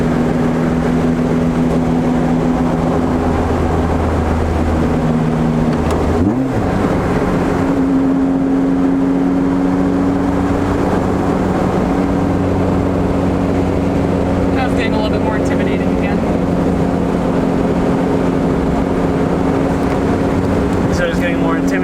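Right-hand-drive Acura Integra engine heard from inside the car, a steady loud drone with a short revving blip and crackle around a downshift, while people talk over it.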